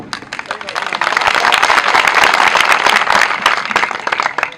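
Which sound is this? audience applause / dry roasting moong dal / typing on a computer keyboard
audience applause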